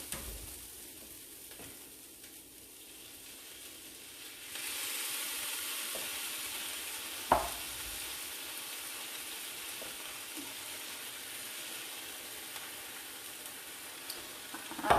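Spices sauteing in a pan for a dairy-free chicken tikka masala, a steady close frying sizzle and hiss that swells partway through, with faint stirring clicks and no talking.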